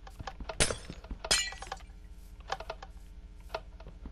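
Glass shattering in Minecraft: two sharp, bright breaking crashes close together, followed by scattered faint clinks and ticks against a quiet game background.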